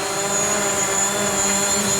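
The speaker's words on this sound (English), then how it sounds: "So we can see the drone now." A DJI Mavic Pro drone hovering nearby, giving off a steady, loud, high-pitched whine of buzzing propellers that holds constant throughout without talk.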